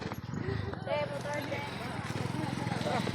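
Horse hooves clip-clopping in a steady rhythm close by, with people talking over the sound.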